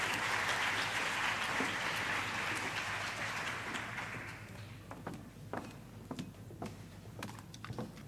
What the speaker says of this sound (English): Can we give her a round of applause as she comes up?